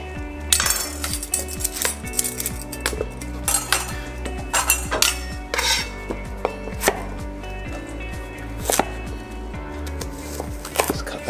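A knife chops peeled carrots into batons on a cutting board for a winter salad, giving a steady run of sharp, close taps with a few louder knocks, and no talking over it.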